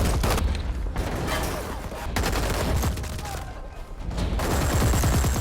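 A gunfight breaks out between two armed groups, with dense, continuous volleys of shots and rapid bursts filling the whole stretch while a voice talks over the fire.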